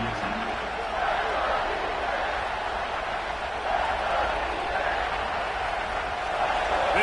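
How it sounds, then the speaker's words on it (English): A football stadium crowd rises into a cheer, a dense, steady roar that swells slightly in waves, heard from within the stands with no clear voice standing out. "This crowd rising up, sensing that its defense needs some help."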